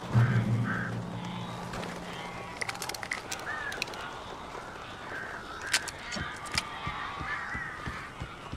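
Strange birds cawing and croaking inside a house in Alan Wake Remastered, scattered calls and flaps over low ambient noise with a hum early on.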